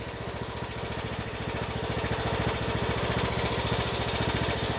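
A 2019 John Deere E100 riding lawn tractor engine runs steadily, a loud, close, even mower-like drone with a fast low pulsing beat and no talking.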